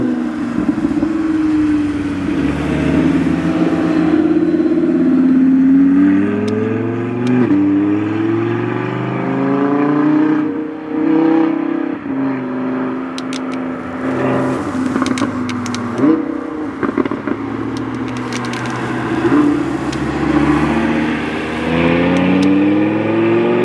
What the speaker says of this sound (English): Porsche 911. Followed by an Audi R8 Spider.